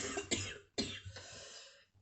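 Two sharp coughs close by, the second followed by a rough trailing exhale, fairly quiet overall.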